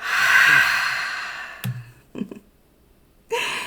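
Long audible exhale during a guided breathing exercise, a breathy rush that fades out, followed by small mouth and breath noises and the start of another breath.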